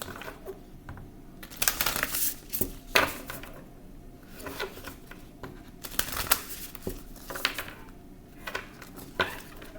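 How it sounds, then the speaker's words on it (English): Tarot cards riffled and shuffled in bursts of crisp flapping and clattering, with short pauses between rounds, close and moderately loud. "I'm going to shuffle."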